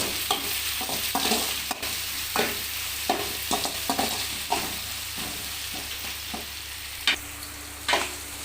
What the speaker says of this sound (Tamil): வெங்காயம் வந்து கொஞ்சம் நல்லா வதங்கட்டும் ஓரளவுக்கு பாதி அளவு வதங்கட்டும்